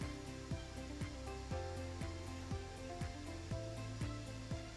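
A 470-S spin rinse dryer runs its dry cycle, ramping toward 2200 RPM with a steady motor whir and a rhythmic thump repeating about twice a second, with falling tones as the rotor gathers speed, alone and fairly faint.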